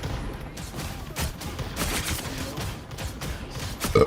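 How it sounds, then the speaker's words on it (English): Gunfire in the hero shooter Marvel Rivals comes as a dense, irregular volley of shots that keeps up across the whole stretch alongside game effects, with a louder burst at the very end. "I'm literally shooting through this guy's model"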